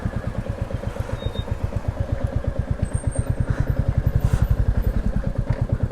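A motorcycle engine runs at a steady, rapid, throbbing idle-like pulse, close and loud throughout, on a wet, slippery road with no talk.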